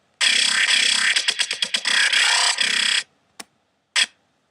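Synthesizer growl patch built in NI Massive with a phaser: a bright distorted buzzing tone in rhythmic chopped bursts with sweeping filtering, ending in a few short isolated stabs separated by silence.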